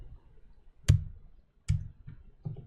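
A computer keyboard is tapped out for the word Web3: four distinct, close keystroke clicks spaced unevenly apart in an otherwise quiet room.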